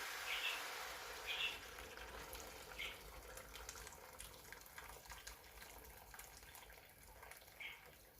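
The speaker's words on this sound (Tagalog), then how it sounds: "it's time for me to add a water" Water poured into a pot of native chicken stew with vegetables: a steady, close pouring hiss and splash that runs throughout at a fairly soft level, with no talk.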